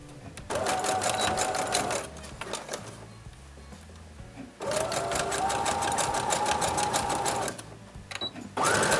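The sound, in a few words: sewing machine sewing zigzag stitch on elastic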